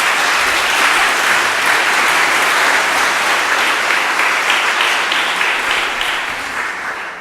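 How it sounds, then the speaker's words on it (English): Audience at a law review symposium on the Fair Housing Act applauds the panelists, a loud, sustained wash of clapping that stays full throughout and tapers slightly at the end. "Let's first of all give our panelists a round of applause."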